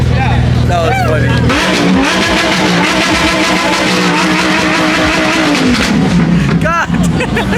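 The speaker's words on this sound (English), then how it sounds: "That kid was redlining the heck out of the Lambo." Lamborghini V engine revved hard to redline, loud and close with repeated climbing and falling revs, people talking over it.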